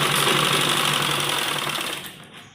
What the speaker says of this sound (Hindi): यहाँ किनारे पर सिलाई लगाएंगे सबसे पहले।